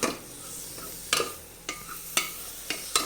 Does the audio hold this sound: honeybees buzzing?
no